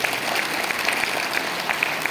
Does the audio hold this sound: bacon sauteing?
no